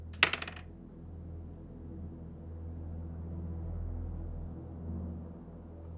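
Dice tumble briefly across a table for a tabletop game strength check, a quick bright rattle of a few clicks at the start, then only a quiet room hum.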